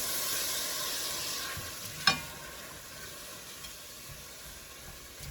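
Bacon and sausage grease sizzles steadily in a pan while cooking down for Zuppa Toscana, a close, constant frying hiss with one brief sharp pop partway through.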